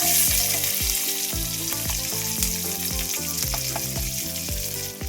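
Chopped onions frying in hot oil with whole garam masala for a curry gravy, giving a loud, steady sizzle and crackle that runs the whole time.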